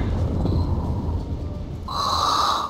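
Someone breathes heavily through a microphone in a Vader-like rasping pattern, a long noisy exhale followed by a harsher, whistling breath, close and loud with no speech.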